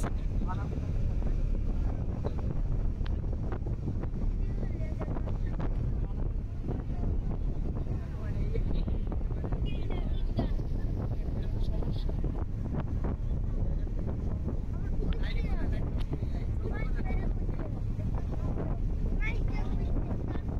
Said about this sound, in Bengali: ফুল গতিতে চলতেছে এম খান 7 লঞ্চ, তাকে কিন্তু ওভারটেক করে যাচ্ছে এমভি মানামি লঞ্চ।